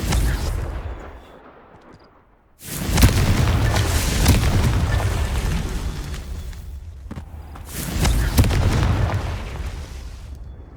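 Two heavy booming blasts from the Confringo spell in Hogwarts Legacy, each a loud explosion with a rumbling tail, separated by a short quieter gap.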